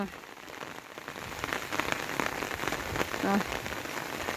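Steady rain pours down onto a surface, a dense patter of drops that keeps up throughout, fairly close and without any voices.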